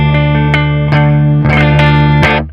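Clean electric guitar played through the JST Toneforge Jeff Loomis amp plugin, gently picked single notes and a chord ringing out with bright sustain and a touch of chorus-like shimmer, close and alone.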